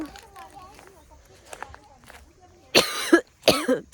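After quiet background sounds, a person coughs twice close by, two harsh, loud bursts in quick succession.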